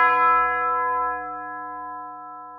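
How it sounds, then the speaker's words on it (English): A single deep funeral bell tolls once, its rich metallic hum ringing out and slowly fading away. "each new year is marked by the sound of a tolling funeral bell"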